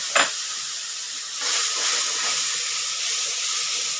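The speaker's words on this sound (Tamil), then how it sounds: "அது கொஞ்சம் இந்த மசாலா நல்லா வதங்கணும்" Masala sautés in a pan for a U.P.-style breakfast. A loud, steady hissing sizzle starts with a quick clatter, then swells and holds.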